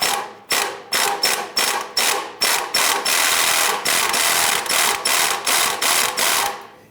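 A ratchet with a swivel socket works a rusty oil pan bolt on a 1999-2004 Jeep Grand Cherokee 4.7L V8, giving a close, loud run of rapid clicking strokes in a steady rhythm with brief pauses between pulls.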